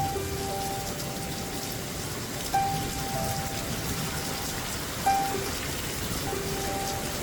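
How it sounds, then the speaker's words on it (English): Steady gentle rain falls in a continuous soft patter, with occasional faint bird chirps and a couple of brief louder drips, calm and even throughout with no voices. "As you listen to the gentle rain, allow each drop to remind you of the abundance flowing into your life."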